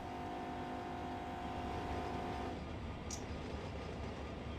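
Locomotive horn in Run 8 Train Simulator at Barstow Hump Yard: a steady sustained horn tone fades out midway over a constant rumbling engine and rail noise, followed by a brief faint high squeal, no voices.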